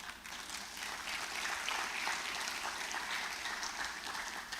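An audience at a regional investment forum applauds in a soft, even wash of clapping that holds steady from start to finish, heard from some distance.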